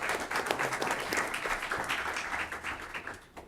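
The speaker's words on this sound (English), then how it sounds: "Also, we'll give him an applause." Audience clapping at a school district board meeting, steady and moderately loud for about three seconds, then tapering off near the end.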